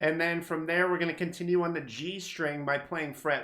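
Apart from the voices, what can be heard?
No distinct noise like a dog, phone or traffic.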